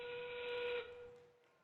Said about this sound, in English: that whistle means that it's the last 30 seconds